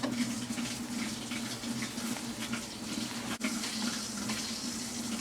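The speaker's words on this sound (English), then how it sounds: "Hear the water dropping in." Steady water gushes from a garden hose into an outdoor washing machine, a continuous near rushing fill with a constant hum beneath and one brief dip partway through.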